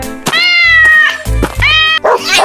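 A cat meows loudly and up close in drawn-out, rising-and-falling cries, several calls in quick succession with no talk over them.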